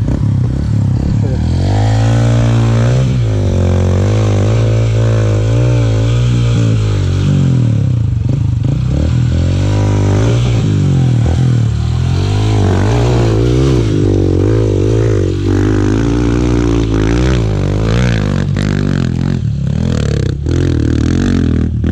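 Dirt bikes, including Kawasaki KLX150L and Honda CRF 150L trail motorcycles, start up and ride off on a mountain trail with loud revving engines and rising and falling pitch, close and continuous.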